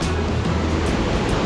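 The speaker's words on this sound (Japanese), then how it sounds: "滝だ滝" Fast-flowing waterfall along a high-altitude mountain hiking trail in the Peruvian Andes near Huaraz, a steady broadband rush of falling water, loud and continuous throughout with no pauses.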